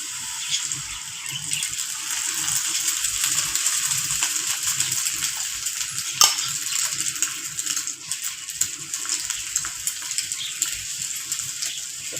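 An egg omelette fries in coconut oil in a pan, a steady soft sizzle and crackle with one small clink partway through, fairly quiet and continuous.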